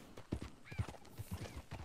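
Horse hooves clip-clop in an irregular gait in the video game Red Dead Redemption 2, with a short whinny rising in the middle, fairly faint and close.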